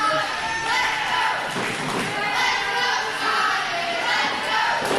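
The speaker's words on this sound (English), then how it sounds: "Fans now cheering on Scotty to get back to his feet." A wrestling crowd at a Continental Championship Wrestling event cheers and shouts in a dense, continuous roar that swells and dips, heard loud and close throughout.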